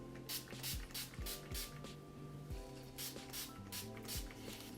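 Urban Decay All Nighter setting spray is misted over a face in a string of about nine quick, soft pumps, irregularly spaced and close, over a faint steady background hum.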